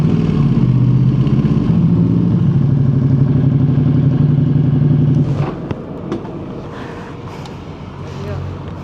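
A Ducati Panigale V2 superbike engine drones loud and steady at low pitch for about five seconds, then cuts away into lighter clattering and wind-like noise.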